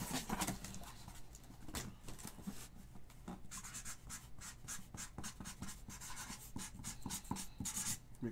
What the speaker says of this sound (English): I'm gonna write mixer on there.